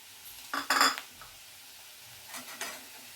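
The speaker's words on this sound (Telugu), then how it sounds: "ఇప్పుడు టమాటా ముక్కలు వేసేసుకుందాం" Chopped tomatoes tipped into a pan of fenugreek leaves, making two short bursts of clatter and spoon-on-pan contact with a faint sizzle between, close and otherwise quiet.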